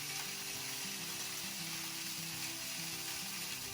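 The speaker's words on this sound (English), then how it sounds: "Lovely sizzle." Sausages sizzle steadily in a hot frying pan, a close, continuous crackling hiss with faint background music and no voices.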